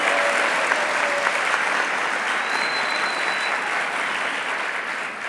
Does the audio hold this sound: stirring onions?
no